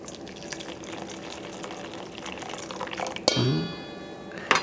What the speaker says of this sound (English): So I'm going to add the boiling water first.